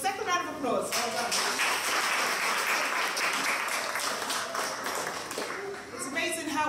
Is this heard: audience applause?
yes